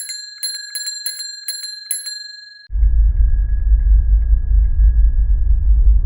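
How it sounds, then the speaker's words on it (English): A bicycle bell rings in several quick repeated dings, bright and clear, then gives way to a low, muffled rumbling version of the bell as it would sound in a thin Martian atmosphere, distant and murky. "Number 1 is Cycle Bell."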